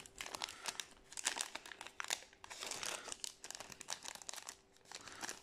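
A Pokémon Battle Legends card booster pack being torn open by hand, with close, quiet crinkling and rustling of foil wrapping in rapid irregular bursts.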